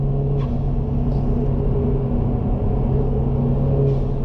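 Engine of a front-wheel drive car accelerating on track, a dense, continuous rumbling drone with a steady harmonic tone throughout, close and fairly loud, with no voices.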